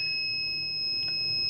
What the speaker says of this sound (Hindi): 5 सेकंड के लिए बीप की आवाज़ आई।